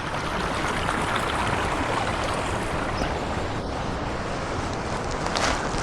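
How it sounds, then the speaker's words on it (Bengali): A small waterfall beside a clear lake on the road from Tawang to Bumla Pass, heard close as a steady, full rushing wash of water that doesn't let up, with no voices. "আর এদিকে একটা ঝর্ণাও আছে একটু কাছে গিয়ে দেখি"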